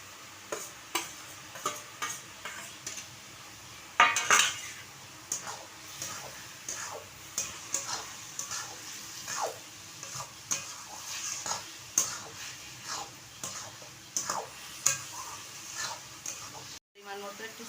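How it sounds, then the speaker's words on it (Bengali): Fried prawns tipped into a simmering ash gourd curry and stirred, a soft sizzle beneath regular scraping strokes of a spoon against the pot, with a sharp clink or two, heard up close. "এবার ভেজে রাখা চিংড়ি মাছটা দিয়ে দেব।"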